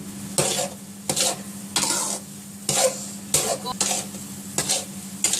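Semolina halwa roasting in a pan, a spoon scraping and stirring through the grainy mixture in repeated strokes, with a steady low sizzle running underneath, close and fairly loud.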